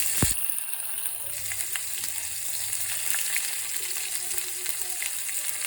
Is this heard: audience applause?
no